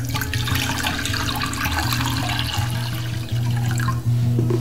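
Water streams continuously into a metal cooking pot (sufuria) as the first step of making simple syrup; a steady, fairly loud rushing pour with a low resonant hum throughout, no speech.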